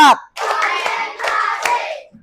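A classroom group clapping together in a call-and-response counting routine, a burst of massed hand claps with rhythmic accents, after a teacher's short spoken cue at the start.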